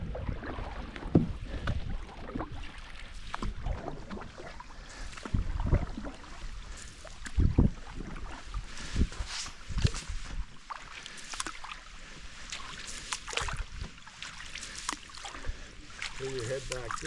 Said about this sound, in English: keep paddling on the same side